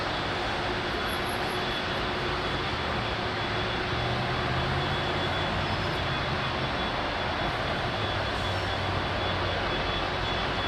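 A Boeing 767-400 jet airliner takes off with a loud, steady engine roar and broadband rumble that holds throughout, heard from nearby with no talk.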